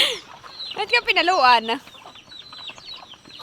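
A chicken at a fishpond gives a short burst of clucking close by, mixed with a person speaking, followed by quieter scattered sounds.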